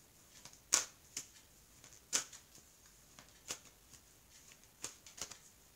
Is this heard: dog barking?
no